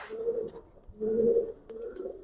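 Pigeons coo close by in three soft, throaty bursts with short pauses between them, a quiet setting with no voices.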